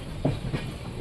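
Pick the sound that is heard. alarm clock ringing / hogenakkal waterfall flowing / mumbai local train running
mumbai local train running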